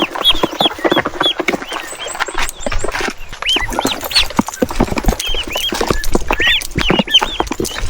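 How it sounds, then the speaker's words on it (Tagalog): A flock of Peking ducks being carried to their pen, dense overlapping quacks and chirps close by with shuffling and rustling throughout. "Dumadami yung ating Peking duck."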